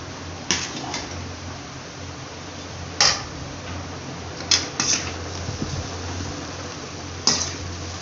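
Basmati rice being stirred in a metal pot for chicken rice, a few sharp scraping clinks of the spoon against the pot scattered over a quiet hum.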